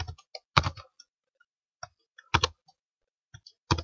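Typing on a computer keyboard while entering a web address, sharp clustered key clicks in short bursts separated by brief pauses, close and distinct with no voice.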